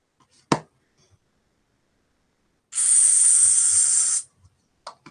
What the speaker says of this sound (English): I'm going to spray the back.